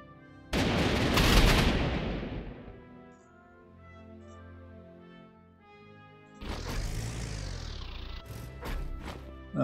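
Units fire on infantry in the strategy war game Panzer Corps 2: a loud blast with a long rumbling decay, a quiet gap, then a second heavy round of thudding impacts and crashes.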